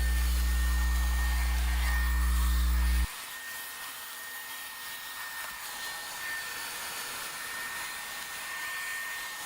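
Bissell Pet Pro Heat carpet cleaner running on a carpet, a steady loud motor roar with a brief louder pitched hum at the start before settling into an even whooshing drone.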